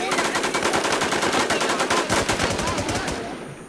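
Rapid automatic gunfire from the online survival shooter Infestation, a dense, loud stream of evenly spaced shots that runs steadily and fades slightly at the end, with no talk over it.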